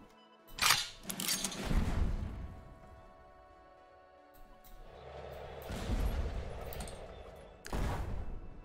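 Sniper fire in the KARDS World War II card game: several sharp, loud shots land at uneven intervals, with quieter stretches of game noise between them.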